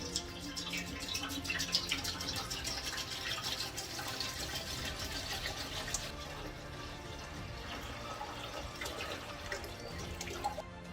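A gallon of apple cider pours steadily into a container for an apple pie moonshine recipe, a continuous glugging, splashing stream heard up close. The pour changes tone about halfway through as the level rises. There is no speech.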